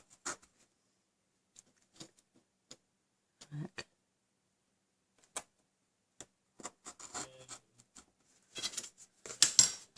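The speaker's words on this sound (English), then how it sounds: "we're going to cut between those marks, which should be about 1 inch" Scissors cutting through folded card stock, heard as faint scattered snips and scratchy rustles, sparse at first and becoming denser toward the end, with quiet pauses between.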